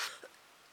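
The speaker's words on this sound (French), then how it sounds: "Et oui, je tousse encore." A single sharp cough bursts out at the end, loud and close, after a faint breathy sound and a short quiet pause.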